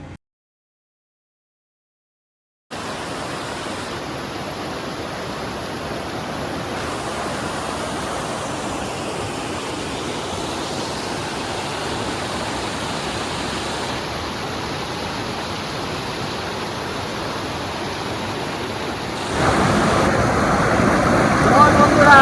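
Cold river water flowing steadily at Jogighat in Sittong, a broad continuous rush that starts after a brief silence and grows slightly louder and nearer toward the end, with no talk over it.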